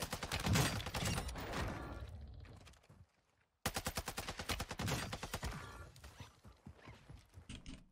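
Rapid bursts of sniper and automatic gunfire in Warzone 2, loud and close, with dense rattling volleys, a brief near-silent gap around three seconds, then more sharp repeated shots.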